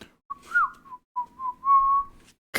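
Someone whistles a short tune up close: clear, loud, wavering melodic phrases with a brief pause between them.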